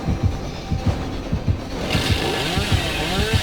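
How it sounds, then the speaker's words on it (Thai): A killer's chainsaw in the horror game Dead by Daylight revs with a rhythmic chugging idle, then swells into a louder sustained buzzing roar, close and dominant, with no speech over it. "เลื่อยอยู่ใกล้ๆอ่ะ"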